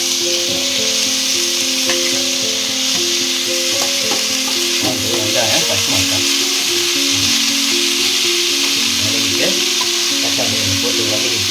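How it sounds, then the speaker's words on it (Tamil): Onions sauté in a pan for a pepper crab dish, sizzling steadily with occasional stirring clinks over a constant background hum and some faint melodic tones. "ஆனியன் வந்து நல்லா கோல்டன் ப்ரௌன் வர வரைக்கும் நல்லா வதக்குங்க."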